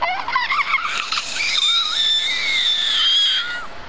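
A human voice imitates a high, wavering screech like a creature's call to summon a friend in The Forest game, rising and sliding in pitch, loud and close, held for several seconds.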